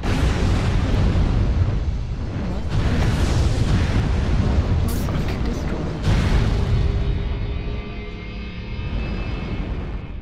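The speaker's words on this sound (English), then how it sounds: "Explosion." Explosions in the MechWarrior Online video game during a 2016 world championship match, loud continuous rumbling booms filling the clip alongside game effects, with a brief sharp burst midway.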